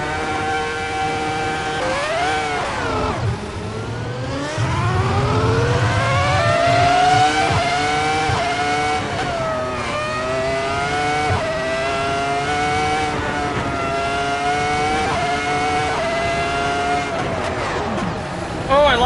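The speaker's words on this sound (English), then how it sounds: "Oh, listen to that V10." A Ferrari F2004 Formula 1 car's V10 engine in the game Assetto Corsa screams through repeated rev climbs and gear shifts, loud and close, pitch rising and dropping in waves over roughly twenty seconds.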